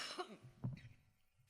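A woman with an allergy coughs a few times during a talk, with short harsh bursts near the start and middle, then a faint click at the end, with no speech in between.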